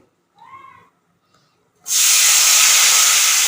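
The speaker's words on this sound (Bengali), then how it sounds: "এবার যে পেঁয়াজটা কুচিয়ে রেখেছিলাম সেটা দিয়ে দেবো" Chopped onion drops into hot oil and sets off a sudden loud, steady sizzle that keeps going close by, after a couple of faint brief sounds.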